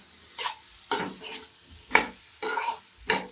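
Fried chickpeas and broccoli being stirred in a pan, five distinct scraping strokes of a utensil in a steady rhythm over faint sizzling, close and clear with no talk.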